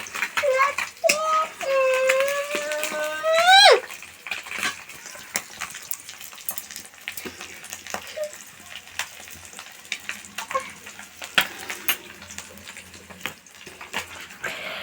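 Fish frying in a pan on a damp stove gives a continuous sizzle that runs under frequent nearby talk, with a voice and a high, drawn-out vocal sound early on.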